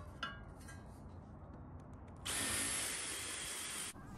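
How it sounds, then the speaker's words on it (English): Power drill boring halfway through a wooden swing-set beam, a sharp high whine starting partway in and running steadily for under two seconds before stopping. "Then you drill just halfway through the beam."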